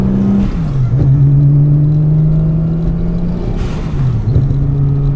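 A 2JZ-powered Mustang engine is revved while its exhaust is tested, a loud close idle drone rising and falling through a couple of blips, with a throaty rasp as each rev climbs and settles.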